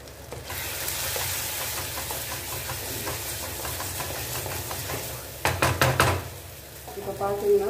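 Food sizzles steadily in a pan while being stirred for okra tamarind kuzhambu, with a brief burst of utensil clatter toward the end.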